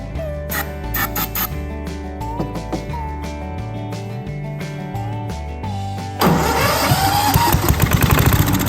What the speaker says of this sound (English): see if we can get it fired off on some carb cleaner, and that'll let us know if we got spark